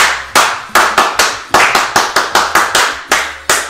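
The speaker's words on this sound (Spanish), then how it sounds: "Rosa Solórzano, un aplauso." Rhythmic hand clapping, about a dozen sharp, loud claps in a steady pattern, close and clear with no voices over them, offered as applause for a prize winner.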